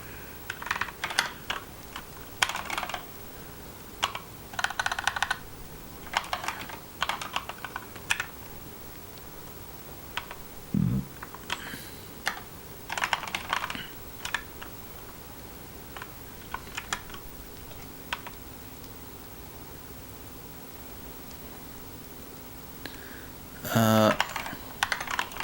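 Computer keyboard typing in scattered bursts while coding, clusters of near, light keystrokes separated by pauses, with a quiet background and occasional faint talk.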